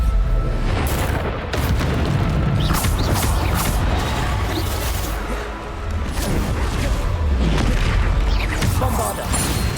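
Booming spell explosions from the Hogwarts Legacy video game fire in rapid succession, loud and dense, with crashing impacts layered over continuous combat noise and game sound effects throughout.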